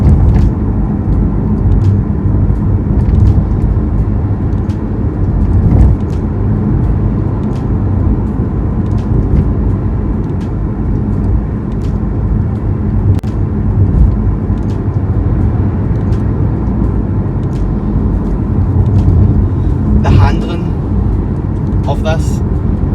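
Inside a Porsche Cayman PDK Sport Chrono, the mid-mounted engine and exhaust right behind the seats give a steady, loud low drone with faint ticking, and someone talks over it throughout.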